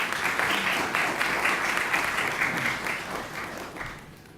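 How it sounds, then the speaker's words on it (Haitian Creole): A studio audience applauds steadily at a Haitian radio-television broadcast, a dense crowd of clapping that carries on evenly for a few seconds before starting to fade. "Sous vos applaudissements."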